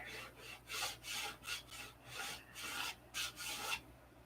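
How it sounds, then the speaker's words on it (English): Rhythmic rasping strokes of hand-sanding rough spots on an aircraft, about a dozen back-and-forth passes at an uneven pace, close up with no voices. "when you start sanding on these things, it's like a never-ending process"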